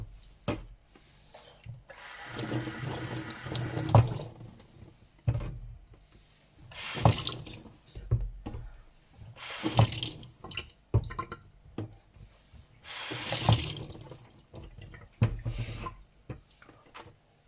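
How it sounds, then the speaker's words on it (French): Tap water runs in bursts over fruit being rinsed for a summer fruit salad, with splashing and rubbing alternating with short pauses, close and moderately loud, and no talking. "Donc, on commence par rincer les fruits."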